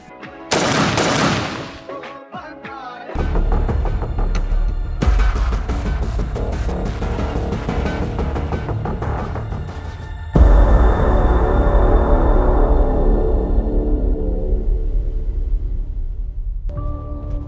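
Bursts of gunfire from a runaway police trainee's gun ring out loud and near, a sharp opening volley followed by sustained rattling fire with a fresh loud burst midway, echoing and trailing off.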